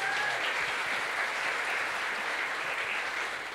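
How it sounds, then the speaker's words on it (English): Steady, fairly loud audience applause at a closing ceremony for a hackathon in Berlin, a dense even wash of many hands clapping throughout, with no speech over it. "A big round of applause to Lev Terrace."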